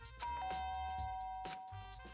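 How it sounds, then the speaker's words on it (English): A doorbell rings inside the Danganronpa video game, a bright sustained electronic tone held for about a second and a half over game music, fairly loud and close. "Press the doorbell."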